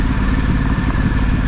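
An adventure motorcycle crawls downhill in first gear on Waterfall Creek Road, its engine a loud, close, steady low rumble with faint clatter.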